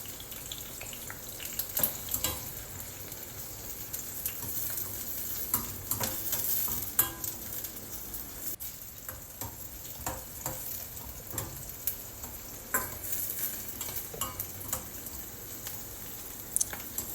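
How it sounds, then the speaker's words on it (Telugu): Gooseberry (amla) pieces sizzle lightly in oil in a pan while being stirred for a mixed vegetable pickle, giving a steady close crackle with scraping stir strokes and no talk. "ఉసిరికాయ ముక్కలు ఉన్నాయి అవి వేపాలి లైట్గా"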